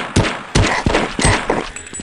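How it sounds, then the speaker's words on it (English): A sentry turret in Half-Life fires in sharp, loud bursts, about five close shots spaced roughly a third of a second apart. "Oh, that's a sentry turret."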